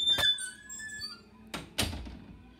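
A door creaks with a high, drawn-out squeak, then closes with two solid thuds close by in a quiet room, with no voices.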